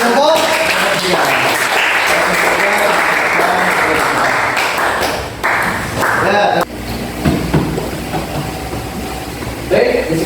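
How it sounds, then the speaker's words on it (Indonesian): A classroom group is applauded, a loud dense burst of clapping from many hands that fills most of the span, then thins and fades near the end. "Kita beri aplaus kepada kelompok"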